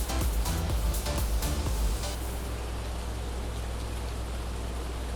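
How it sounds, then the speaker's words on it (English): Steady rain in a farming video game, a soft, even hiss of falling water with a denser patter over the first two seconds that then settles into a constant wash. "I can't do anything else in the rain."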